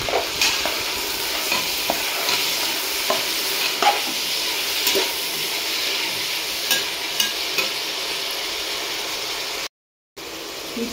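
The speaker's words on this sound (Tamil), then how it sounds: "புதினா கொத்தமல்லி கறிவேப்பிலை போட்டு வதக்கணும்" Mint, coriander and curry leaves sautéing in a pan for biryani, a steady close sizzle broken by repeated scraping stirs across about ten seconds, with no talking, ending in a brief silent gap.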